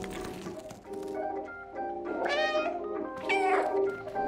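A cat meows repeatedly in the video game Stray, several drawn-out, rising and falling calls that are close and clear, with brief pauses between them.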